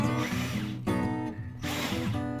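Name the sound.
unscrewing two screws on HP Officejet 6500A printer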